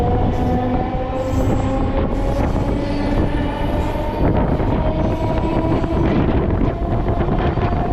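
A Chennai suburban train rumbling along the rails at speed near Kasturba Nagar station, loud and close, with a steady roar, rattling wheels and a faint whining tone over constant wind noise.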